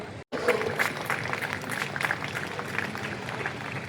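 Audience applause at a school annual day function, a steady wash of many hands clapping that fills the room from start to finish, with one brief cut near the beginning.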